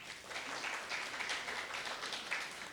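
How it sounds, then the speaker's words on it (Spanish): An audience applauds at a conference on Afro-Peruvian zapateo, a dense, steady wash of clapping from many hands that carries on evenly without pause. "Los aplausos para él."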